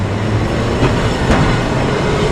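A tram in Milan rolls past close by, a steady broadband rumble of wheels on rail with faint clatter, continuous and loud for a couple of seconds with no voices.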